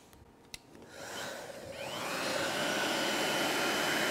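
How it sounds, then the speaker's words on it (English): A heat gun blowing hot air to soften plastic on a vehicle transmission, starting after a couple of small clicks and rising into a steady, loud whooshing roar that holds to the end. "I'm going to warm it up with a heat gun, because I want that plastic to soften up a little bit before we pull it out."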